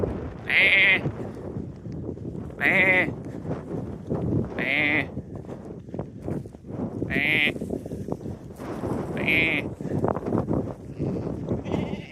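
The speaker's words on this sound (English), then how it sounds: "Love the sheep, don't you, Luca?" Sheep bleat loudly and close by on open hillside at Wild Bank near Stalybridge, five drawn-out calls spaced a couple of seconds apart, with quieter murmuring between them.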